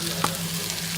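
Chopped green chillies fry with onion for poha, a brief steady sizzle with one small utensil tap near the start.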